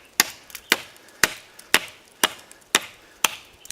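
A TOPS Silent Hero knife chops into wood while carving a pot lifter, seven sharp, evenly spaced whacks about half a second apart, each a crisp close impact with a short decay.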